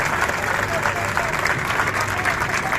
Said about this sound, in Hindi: एक बार जोरदार तालियां हमारे मीडिया के साथियों के लिए।